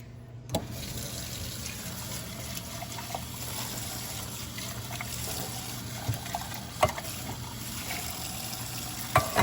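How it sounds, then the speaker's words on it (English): Water runs steadily from a kitchen tap as dried beans are rinsed, a constant soft rush with a few faint clinks and taps, close and alone. "And I want to rinse them nice."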